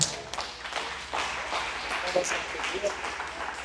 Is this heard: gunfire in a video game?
no